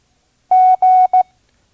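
Morse code letter G sent as a clean, loud single-pitch beep: two long dashes and then a short dot, alone against silence.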